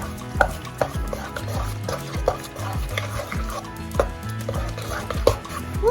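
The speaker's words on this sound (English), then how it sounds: "Mix that up." A ziti dish with garlic is stirred in a pot, making repeated scraping and clinking strokes with soft wet squelches in a steady rhythm, close and moderately loud.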